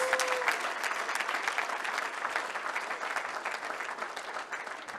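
An audience at the 2023 Sportsman and Sportswoman Awards gala claps in sustained applause that stays even and moderately faint throughout, with a short tone heard at the very start.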